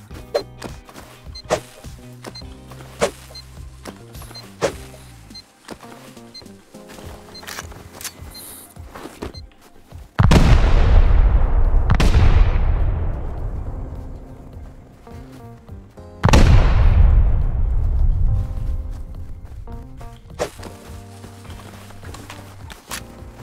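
Two big explosions boom in the video game Rust, each a sudden loud blast with a long rumbling decay, after a stretch of footsteps and clattering movement.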